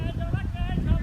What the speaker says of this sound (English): It's still windy over here though.